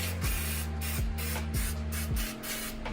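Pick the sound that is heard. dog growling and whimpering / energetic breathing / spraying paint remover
spraying paint remover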